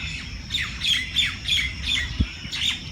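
Birds squawk repeatedly in a park at dawn, around 5:10 a.m., in a steady series of harsh calls, roughly every third of a second, over a low outdoor rumble.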